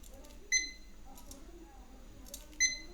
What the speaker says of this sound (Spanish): cuando toma la lectura del diodo se enciende la luz verde y emite un pequeño pitido